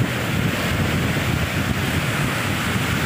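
Steady wind buffets the microphone at Cagayan Bay in a broad, constant rush, with a faint wash of bay water in the background and no voices.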